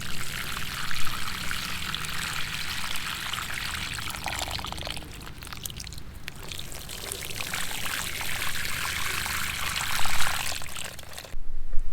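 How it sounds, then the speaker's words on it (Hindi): Water is poured steadily onto two newly planted nasturtiums set in a porous, well-drained soil mix, making a continuous close splashing gush for about eleven seconds before it stops abruptly. "इन दोनों में हम दे देंगे पानी"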